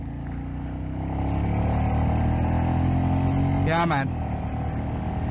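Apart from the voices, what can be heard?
Royal Enfield Meteor 350 motorcycle engine revving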